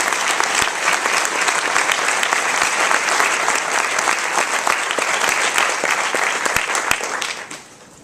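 Steady audience applause for nursing graduates at a pinning ceremony fills the room with dense, continuous clapping, holding loud and even before tapering off near the end.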